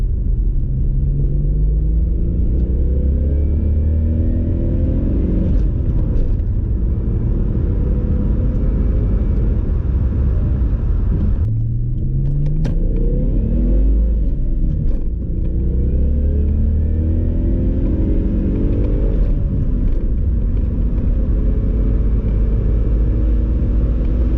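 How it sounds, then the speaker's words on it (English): Mitsubishi VR4 pulling hard in second gear, a loud close engine roar climbing in pitch through the revs, easing off briefly mid-run, then winding up again. "Do another quick little pull here, just rolling in second."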